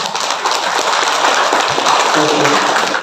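An audience at an organic fertilizer technology workshop in Merauke claps in a sustained, moderately loud patter, with a voice briefly heard over the clapping.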